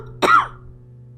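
One sharp, loud cough with a rough throat-clearing rasp sounds right at the microphone, then drops away to a quiet steady hum.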